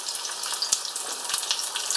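Sweet and sour pork balls fry in a pan with a steady, close hiss of sizzling oil and a few soft pops and crackles, no voices.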